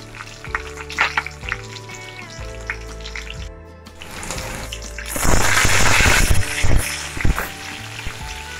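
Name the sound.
green chilli sizzling in hot oil for capsicum bhaji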